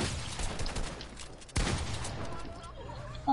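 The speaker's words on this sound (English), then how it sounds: "who keeps shooting at me?" Bursts of video game gunfire, dense and continuous with a sharp louder onset midway, playing under the mix.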